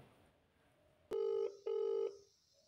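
Two long touch-tone beeps from a telephone being dialed for a prank call ring out clearly with a short gap between them, preceded by a sharp click and followed by quiet.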